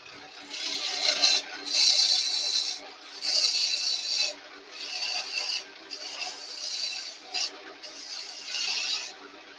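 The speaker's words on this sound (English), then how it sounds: "Let me use my roughing gouge to get rid of some of that." A roughing gouge cuts spinning wood on a lathe in repeated bursts of harsh scraping and shaving, close and fairly loud, in rhythmic passes with brief pauses between them.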